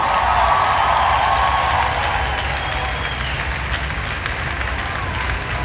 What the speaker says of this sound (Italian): Un applauso a questa banda favolosa!